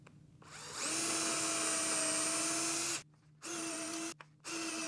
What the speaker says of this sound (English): I'm just gonna drill these out real quick with this same bit